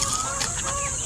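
Chickens cluck in short, overlapping calls during feeding, close and fairly loud over a steady background hum.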